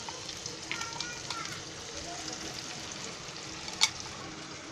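Ground gravy for chicken 65 goes into a hot pan, setting off a soft, steady sizzle and bubbling, fairly quiet, with a brief sharp clink near the end; faint talk sits behind it.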